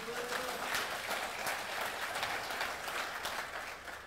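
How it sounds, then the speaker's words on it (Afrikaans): A church congregation claps together in a steady, moderately distant round of applause, with a faint voice in the background. "Geef hulle hande klap."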